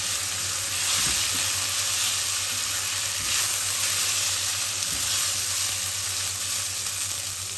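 Rice is stirred and fried in a pot, giving a steady loud sizzling hiss with occasional scraping stir sounds throughout.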